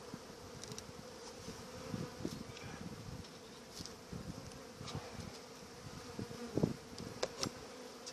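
Steady low droning hum of many honey bees buzzing close by at an opened hive during an early spring inspection, with occasional louder passes as individual bees fly near.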